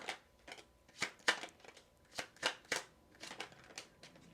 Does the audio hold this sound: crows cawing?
no